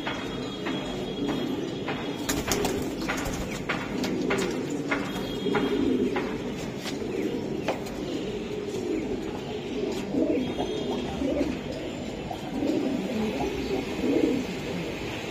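High-flying racing Giribaz pigeons, Chila Kaldom and green-necked birds, coo in soft, low, repeated throbbing phrases close by, with occasional faint clicks and rustles behind.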